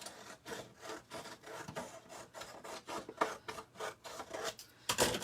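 A small paper cutter trims a sheet for a spring folio journal, giving a run of close, repeated rasping slices in an uneven rhythm, followed by a louder final swipe, with no talking.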